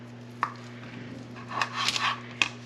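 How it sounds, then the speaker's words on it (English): A knife slices through a cooked pickle meatball on a kitchen surface, producing a few sharp, close taps as the blade meets the board, with a brief soft crunching scrape in between. "So I'm gonna actually cut this meatball, I'm gonna try to do it this way."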